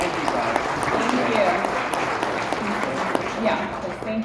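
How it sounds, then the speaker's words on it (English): Session audience at a Nexus Dashboard Fabric Controller talk applauding a presenter, a sustained wash of clapping that runs beneath a speaker's voice throughout. "If everyone can help me give a round of applause to Matthew."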